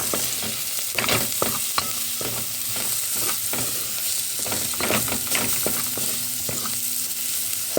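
Food seasoned with meat spices fries in a pan, a loud steady sizzle broken by frequent clattering stirs and scrapes close up, with no voices.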